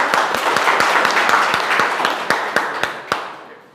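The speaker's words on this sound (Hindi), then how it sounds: "इनके लिए जोरदार तालियां।" A crowd at a school results celebration applauds steadily with clear individual claps standing out, fading as the clapping thins near the end.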